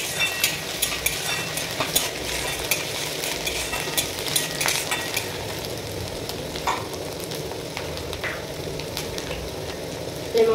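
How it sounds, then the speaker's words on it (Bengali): Ginger and garlic masala frying in a pan, stirred steadily with a utensil: a continuous sizzle runs throughout, with frequent scraping strokes and light clinks of the spoon against the pan, no voices. "এবার এটাকে ভালোভাবে মিক্স করে নেবো নেড়ে চেড়ে"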